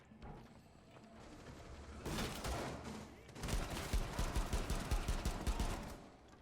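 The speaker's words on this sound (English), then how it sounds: "I think that was a friendly flashbang there" Loud burst of gunfire and explosive chaos in Rainbow Six Siege, including a friendly flashbang going off, with dense rapid shots swelling over the last few seconds.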